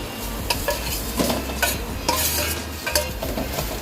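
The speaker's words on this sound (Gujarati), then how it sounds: "હવે બરાબર આપણે મિક્સ કરી લઈશું બટાકા અને મસાલાની સાથે." Boiled, peeled and mashed potatoes are stirred with spices in a pan, a spoon scraping and thumping in steady repeated strokes over a soft sizzle, close and fairly loud with no talk.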